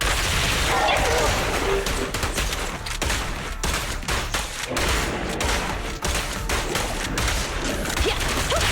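Rapid gunfire fills a Zenless Zone Zero battle, loud and continuous bursts layered with crashes and game effects, with voices calling out over the shooting.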